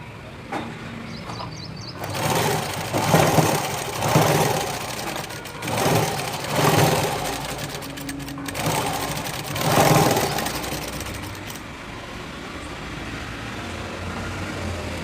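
A sewing machine stitches a full blouse in repeated loud motor bursts of a few seconds each, with short pauses in between and one longer run near the end.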